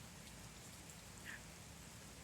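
Rain falls outside in a steady, soft hiss of many drops landing on surfaces, faint and even throughout with no talking.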